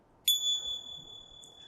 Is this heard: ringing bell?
yes